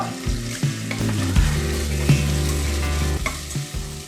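Mint, coriander and ginger garlic paste fry in a pan for soya veg pulao, a close, continuous sizzle with a spoon scraping and stirring through it, no voices.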